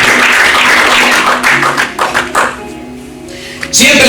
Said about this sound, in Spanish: Denle un aplauso de esta hora.